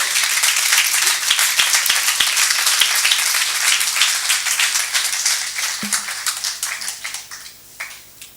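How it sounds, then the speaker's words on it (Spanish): An audience at a university forum on migration gives a loud, dense round of applause, many hands clapping steadily before it thins into scattered claps and fades out. "démosles un fuerte aplauso nuevamente"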